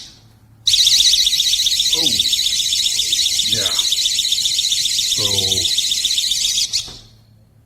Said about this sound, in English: as you can tell, that is a pretty piercing alarm there